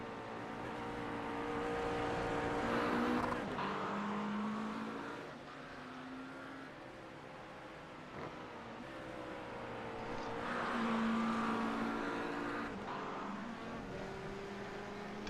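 A McLaren GT3 race car in a sim racing league broadcast drones along the track, engine note rising and falling through gear changes and corners, a steady mid-loud whine with no talk.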